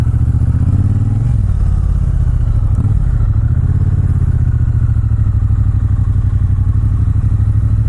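A Triumph Bonneville T120 Gold Line, a middleweight motorcycle of about 550 pounds, is ridden on a sunny day in the Dallas Fort Worth area. Its loud, steady engine drone briefly shifts pitch as the rider changes speed.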